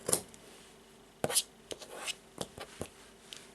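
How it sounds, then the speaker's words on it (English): A few sharp scissor snips cutting bracelet cord close by, scattered with pauses between them, over faint rustling and handling noise. "I will take the scissors and cut the cord"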